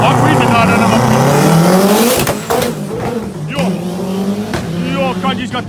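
A Subaru works Impreza race car screams past at a hillclimb event in Knysna. The engine note rises and falls sharply through loud, close gear changes and revving, with tire noise in between and voices underneath.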